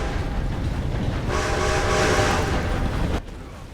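A train in Red Dead Redemption 2 rumbles loudly and steadily at close range, its broad roar swelling midway and then cutting off abruptly near the end, with no voices over it.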